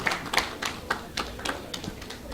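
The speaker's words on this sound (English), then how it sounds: "Hey, round of applause." A small group claps at a live hotel celebration after a cake is lit, giving a few scattered, rhythmic claps of modest loudness rather than a full roar.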